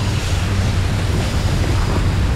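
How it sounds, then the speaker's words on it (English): Cartoon tide water rushes back in, a loud, dense roaring surge like surf with a low rumble, continuous and close, with no talk over it. "the tide's coming back in."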